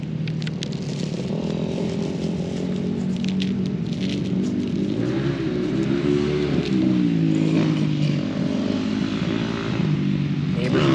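Neighbors' motorcycles return from a ride, their engines rumbling and revving at a moderate distance in a continuous blend with crackling, rustling handling noises up close.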